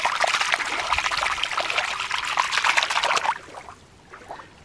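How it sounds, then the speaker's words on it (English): A toy crab goes into water with a steady trickling and splashing that runs loud for about three seconds, then drops to a faint dribble. "Let's put the crab back in the water."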